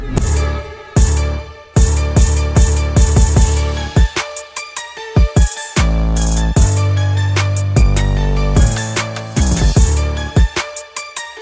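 Percussion section of a music track mix plays, with punchy drum hits and a busy, rhythmic pattern of sharp transients and booming low hits, loud and alone.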